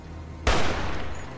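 A single heavy sniper rifle shot cracks out in Fallout: New Vegas, a sharp loud blast followed by a long rumbling tail that fills the rest of the moment, with no talking.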